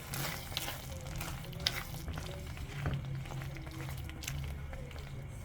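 Vegetarian sambal stirred and frying in oil, a soft steady sizzle with a few faint scrapes of stirring, close but quiet, with no voices.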